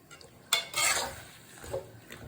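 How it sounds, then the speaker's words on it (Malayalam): Spoon scrapes and clatters against a pan as thick mango pickle in large pieces is stirred, a couple of brief knocks amid a soft background hiss. "ഇന്ന് ഞാൻ വെറൈറ്റിക്ക് വേണ്ടി വലിയ കഷ്ണമാക്കി നല്ലപോലെ ഇളക്കി കൊടുക്കും"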